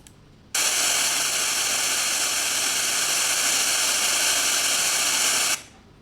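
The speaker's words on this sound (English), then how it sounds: "So here is the white noise." Bright, harsh white noise hisses at an even level for about five seconds, starting and stopping abruptly, like loud static with no other sound.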